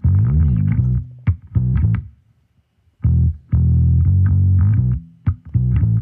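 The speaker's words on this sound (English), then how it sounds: "The main driving force of the song is this bass riff." A funky electric bass riff with an effects-coloured, slightly distorted tone plays loud and up front in short syncopated phrases, with a clear pause midway before it resumes.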